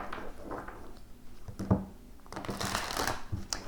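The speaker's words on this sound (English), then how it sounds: "Now, there is a lot of shuffling" A deck of tarot cards is shuffled by hand, giving soft papery riffling and rustling bursts, close and fairly quiet, with a brief thump midway and a denser flurry of card noise toward the end.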